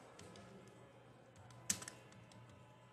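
Typing on a computer keyboard while making PowerPoint slides, a faint scatter of soft key taps with one sharper, louder keystroke near the middle, in a quiet room.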